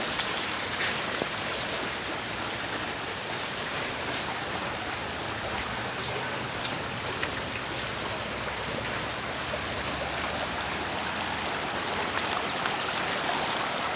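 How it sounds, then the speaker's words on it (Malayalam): Heavy rain pounds down while floodwater rushes across a submerged road, making a dense, unbroken hiss of rainfall over flowing water for the whole stretch, with no talking. "വരുന്ന വെള്ളം നോക്കി."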